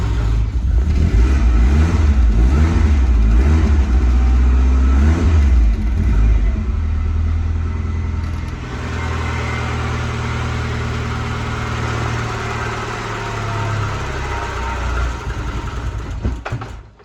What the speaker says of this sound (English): The car starts a lot better on a warm engine, which is what it had trouble with before the new sensor, but it still doesn't idle well until it's warmed up